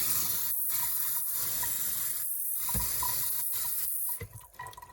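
Water draining from freshly rinsed sprouts, a steady close hiss of trickling water that eases into scattered drips near the end.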